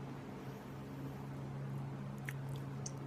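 Ruffles All Dressed potato chips are chewed and crunched close up, with a few sharp crisp snaps over a steady low hum and no talking.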